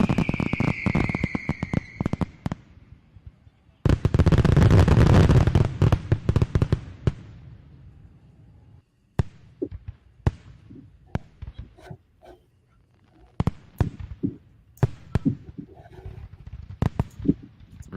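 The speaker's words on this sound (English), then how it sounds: "you can still see a lot of fireworks going on underneath." Fireworks burst in scattered sharp cracks and pops, with one long loud crackling rush early on and then intermittent distant bangs through the rest of the stretch, no talk over them.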